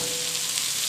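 Frozen vegetables sizzle and fry in a pan with softened onions for a samosa filling, a steady, close hiss with no pauses.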